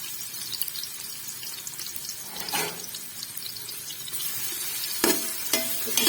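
Chopped onion hitting hot oil in a pressure cooker for an aloo gajar methi sabji, giving a steady low sizzle broken by a few sharp stirring clatters and scrapes near the end.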